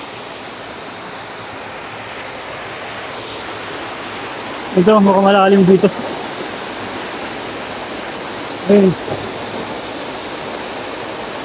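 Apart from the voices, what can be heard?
waterfall, Talon Butas falls in Cavite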